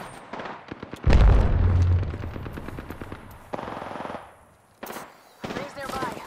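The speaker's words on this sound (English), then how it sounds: "Throwing Arc Star. Firing." Rapid automatic weapon fire from a battle in the video game Apex Legends rattles out in dense bursts, loud and close, with short pauses between volleys and game effects layered in.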